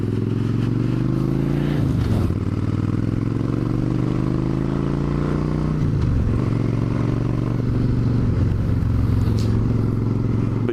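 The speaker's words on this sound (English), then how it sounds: "this bike, ever since we did the carb work on it, it sounds a lot better than it used to" Motorcycle engine running steadily after carburetor work, a loud continuous throbbing drone close by, with two dips and recoveries in revs as it shifts.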